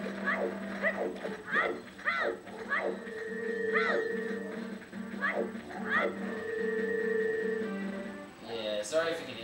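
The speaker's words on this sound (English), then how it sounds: "sorry if you can hear my dog" Indoors, a dog barks and whimpers in a series of short, pitched yelps and whines, mixed with ongoing Legend of Zelda: Majora's Mask game sounds.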